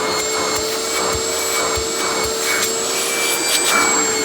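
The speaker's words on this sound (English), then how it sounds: "this is honestly the worst tool suction I've ever seen out of one of these direct air vacuums" A Garry Ultralight GL100 upright vacuum cleaner, a direct-air knockoff of the Oreck XL, runs with a steady whining drone and a constant motor hum, close and loud, with faint clicks, and no talking.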